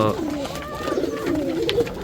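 Pigeons coo in soft, rolling, low calls, one after another, close by and fairly loud, with no talking.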